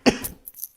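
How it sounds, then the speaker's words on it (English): A single sharp cough up close, followed by a few faint, breathy rustles as it trails off. "I'm sorry, I have to cough"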